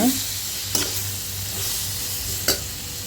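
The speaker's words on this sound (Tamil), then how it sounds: "அதையும் தக்காளி வந்து நல்லா மசிஞ்சு வரணும், அந்த அளவுக்கு நல்லா வதக்கிக்கோங்க" Tomatoes for a sardine fish curry sauté in a pan with a loud, constant sizzle, and two sharp spatula scrapes stand out against the frying.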